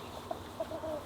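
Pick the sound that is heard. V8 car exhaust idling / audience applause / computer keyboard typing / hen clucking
hen clucking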